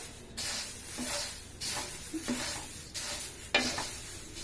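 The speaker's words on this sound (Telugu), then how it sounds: "ఇట్లా మంచిగా వేయించుకోవాలి." Moringa leaves sizzle and crackle in a hot pan as they are stirred in repeated scraping sweeps, a steady close frying hiss with no voices.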